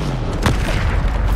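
A Bombarda spell explosion in Hogwarts Legacy on PS5, heard as one heavy, dense booming blast with a rumbling low body that fills the whole moment, loud and close.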